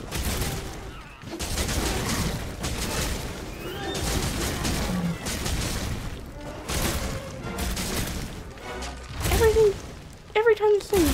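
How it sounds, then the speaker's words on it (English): Weapon strikes in Monster Hunter World: Iceborne landing as repeated heavy booming impacts, dense and loud throughout, mixed with game music and effects, with a voice talking over parts of it. "Every time this thing hits, it sounds like it's an explosion."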